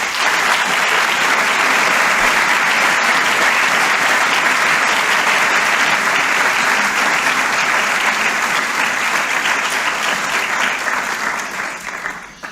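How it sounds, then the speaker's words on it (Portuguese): An audience at a clinical-cycle graduation ceremony claps in a loud, sustained round that holds steady for several seconds and then tapers off near the end. "eu gostava a ambos de pedir uma salva de palmas"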